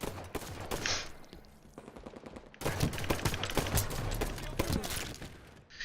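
A sniper rifle and other guns fire in a video game as quiet bursts of rapid gunshots, with a short lull partway through before dense firing resumes.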